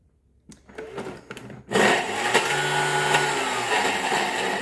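Food processor pulsing garlic and salt for toum: a few short clattering bursts, then a steady loud whirring run of the blade grinding the paste, close up with no talking.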